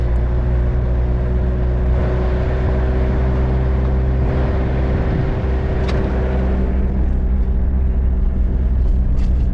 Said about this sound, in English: In this episode, we drive up the highest public road in New Zealand in our camper van.